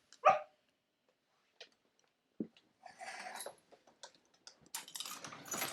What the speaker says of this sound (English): I'm just letting the dog out.